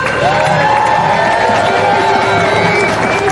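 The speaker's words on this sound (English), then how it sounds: "Big round of applause." A large protest crowd outdoors in London applauding and cheering, continuous loud clapping mixed with whoops and shouts, with voices carrying through the din.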